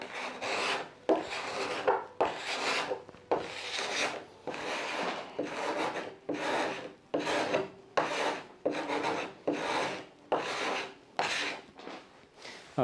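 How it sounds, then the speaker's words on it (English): Rhythmic rasping strokes of sanding in the modded Minecraft pack Craftoria, about a dozen scratchy back-and-forth passes at a steady pace with brief gaps between them, close and clear, with no voices. "use the sanding thing, do some sanding."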